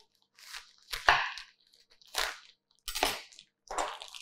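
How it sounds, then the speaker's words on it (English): Plastic film wrap being cut off a cooked turkey saddle, four or five separate crinkling, crunching bursts close to the microphone with short silences between, no talk. "This film can be cut straight off."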